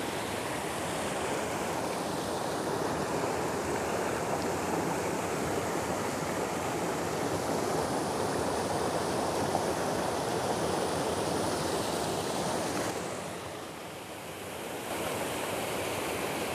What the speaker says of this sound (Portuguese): aqui da Cachoeira de Missão Velha